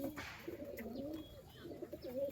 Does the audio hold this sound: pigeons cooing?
yes